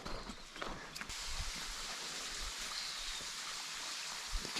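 Steady broadband rushing of a creek running beside a hiking trail through wooded forest in spring, a constant wash of flowing water heard fairly close throughout with no talk, faint low thumps now and then.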